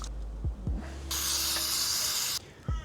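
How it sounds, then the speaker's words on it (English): Cleaner sprayed into the air intake of a Mazda BT-50, a steady loud hiss lasting over a second, with short clicks and handling noises just before and after. "Try to spray it in the direction in which it's actually drawing air"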